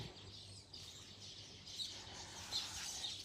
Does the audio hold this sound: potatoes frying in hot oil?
no